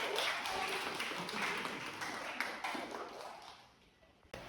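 A class applauding together after a lecture presentation, a dense wash of overlapping claps that holds steady and then thins out toward the end.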